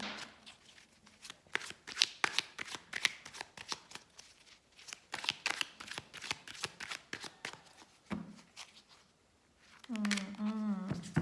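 A Rider Waite tarot deck being shuffled close up, a run of quick crisp riffling bursts with short pauses, and someone briefly speaks near the end.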